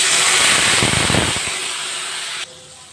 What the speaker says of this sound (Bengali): এই তেলের মধ্যেই গোটা জিরে দিয়ে দিলাম, এলাচ দারচিনি দিয়ে দিলাম, তেজপাতা দিয়ে দিলাম